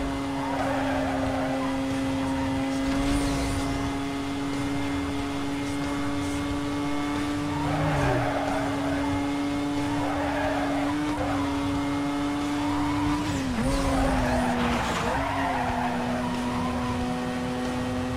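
A Mazda car in Need for Speed Most Wanted holds a steady engine drone throughout, with bursts of tire skidding and squeal around the middle and later on, while someone talks over it.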